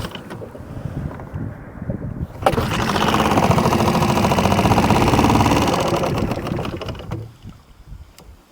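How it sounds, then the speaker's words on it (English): A small gas outboard motor on a boat is recranked: faint clatter at first, then a loud, buzzy, rapid engine whir that runs for several seconds before dying away. "Let's see if we can get it recranked here."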